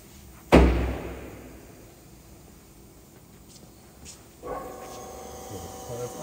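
A door on a 1999 Trumpf Trumabend V50 hydraulic press brake slams shut with one loud close thud, followed by a quiet hiss and a low machine hum starting a few seconds later.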